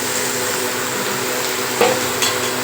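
Marinated chicken goes into a pan of frying onions for a curry-leaf chicken uppu kari, giving a steady close sizzle with a couple of brief metallic clatters.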